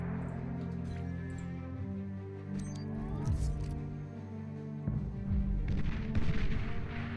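Rapid gunfire and booming shots aimed at enemy sharpshooters inside a base during a video game battle, dense and continuous with heavier blasts near the end.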